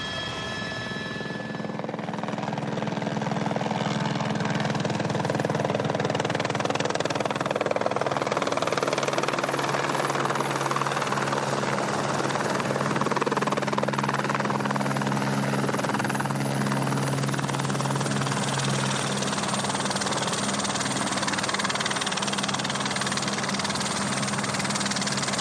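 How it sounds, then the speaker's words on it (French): A helicopter drones loudly and continuously overhead along the Durance valley in southern France, its rotor thump and engine whine steady throughout with no voices. "Pendant que l'hélicoptère poursuit sa tournée"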